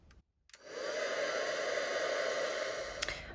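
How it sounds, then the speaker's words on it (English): A craft embossing heat tool switches on and blows steadily to dry ink on a card, a close, even rushing hiss of hot air held for a few seconds, with a faint click at the start. "I'm just going to use my heat tool and just dry the ink."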